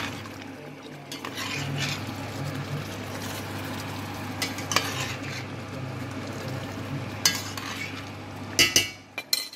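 Spoon scraping and stirring tomatoes into lamb curry gravy in a pot, with a low simmering sizzle underneath and sharper clinks of utensil against metal toward the end.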